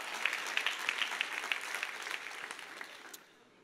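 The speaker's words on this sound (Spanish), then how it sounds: "dale ese aplauso al rey, por favor" A church congregation applauds steadily for a few seconds with dense clapping, then the applause fades out toward the end.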